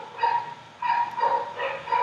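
Dogs bark somewhere off in the distance behind an outdoor class, three short bursts of yapping spaced about a second apart over faint background noise.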